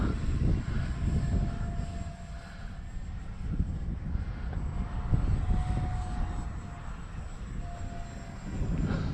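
An Arrows Viper 50mm electric ducted-fan RC jet flying in gusty wind, a steady airy whine and roar with wind buffeting, rising and falling as it passes at moderate distance.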